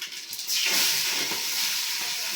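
Cumin seeds drop into hot oil and burst into a loud, steady sizzle and hiss that holds close and even, following a brief quieter moment.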